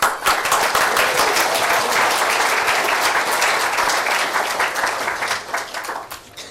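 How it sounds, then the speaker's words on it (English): A conference audience gives a panel moderator a round of applause, thick sustained clapping from a large hall that holds steady and then thins out toward the end. "Jerry, give him a round of applause."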